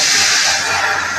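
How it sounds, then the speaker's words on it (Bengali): Water poured onto hot fried spices for a katla fish curry bursts into a loud, close, steady hiss that fills the whole short moment. "এখন আমি জল দিয়ে দেবো।"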